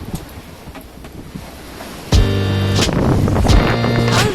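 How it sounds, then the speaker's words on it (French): Wind of 17 to 20 knots buffeting a sailboat at sea off Saint Vincent, a loud steady roar of gusts and surf that swells sharply halfway through, with tonal whistling joining in. "le vent est enfin tombé, il est entre 17 et 20 nœuds"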